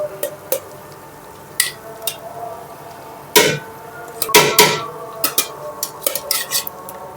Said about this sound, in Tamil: இப்போ சிக்கனை நல்லா கிண்டி விட்டுக்கலாம்